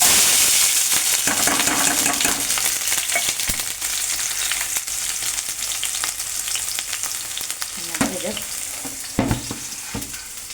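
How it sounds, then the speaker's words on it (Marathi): Green chillies and garlic frying in hot oil for a tempering, a loud, close, steady sizzle that eases slightly over time, with stirring scrapes and a few sharp knocks toward the end. "बघा मिरच्या घेतल्यात हिरव्या आणि लसूण फोडणीसाठी टाकणार आहे"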